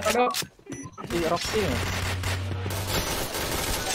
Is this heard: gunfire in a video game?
yes